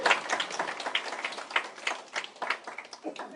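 Audience clapping at a Buxcoin event in a Dubai hotel, a dense patter of many hands sustained and fairly steady throughout, moderately loud with no one talking over it.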